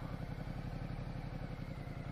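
A Ducati 1200 cc motorcycle engine thrums with a rapid, even low-pitched pulse, running steadily without any voices.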